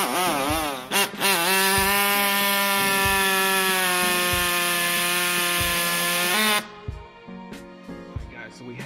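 A power saw cuts through the metal mount ears of a snow plow on a Ford F-series truck, a loud sustained whine with a rising pitch, then cutting stops and a few clanks follow.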